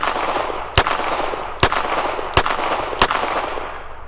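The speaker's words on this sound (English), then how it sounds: "fire 6 shots in 8 seconds, and again that's from a snapped holster" A Smith & Wesson Model 66-2 revolver fires four loud, sharp shots at an irregular pace on a shooting range. Each crack stands alone over steady background noise, with no talk.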